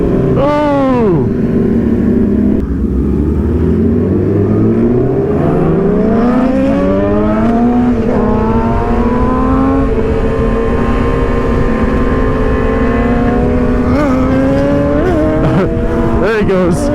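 Superbike motorcycles, a 600cc bike among liter bikes, accelerating along a scenic California mountain road, loud engine revs rising and shifting through gears close by, continuous over wind noise.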